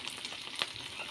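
Dried fish frying in oil in a pan before pumpkin is added, a soft continuous sizzle and crackle with a few small pops, close up and fairly quiet, no talking.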